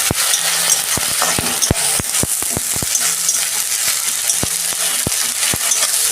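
Ginger-garlic paste fries in a pan for a prawn malai curry, with a steady hiss of hot oil broken by sharp, irregular clicks and scrapes of a spatula against the pan, loud and close.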